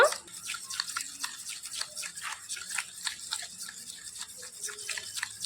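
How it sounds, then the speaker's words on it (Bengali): Ghee and powdered sugar are worked together by hand in a bowl for biscuit dough, giving a rapid, rhythmic series of soft scraping, squishing strokes close up, with faint talk in the background. "এবার আমি ঘি আর গুঁড়ো চিনিটা খুব ভালো করে মিশিয়ে নেব"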